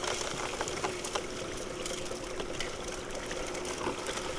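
Muddy water running steadily through a Gold Cube sluice, a continuous close wash with small splashy bursts and no voices.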